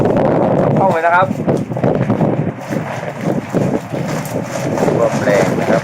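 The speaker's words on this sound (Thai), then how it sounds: "ลมแรงนะครับ" Strong storm wind roars steadily and loudly into the microphone outdoors in Korea during a typhoon, with someone talking over the buffeting gusts.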